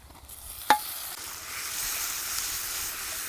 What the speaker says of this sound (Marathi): आपण टोमॅटो टाकून घेऊ परतायला